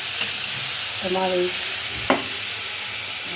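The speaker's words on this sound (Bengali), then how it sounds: "চিংড়ি মাছটা জাস্ট একটু নেড়ে নেব" Shrimp stirred and fried in a pan, a steady close sizzle with scraping stirring strokes and a sharp clatter near the end, while a voice speaks briefly.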